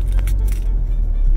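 Steady low rumble from inside a car driving home through Montreal, with road and engine noise constant throughout and faint knocks or rattles near the start, no speech over it.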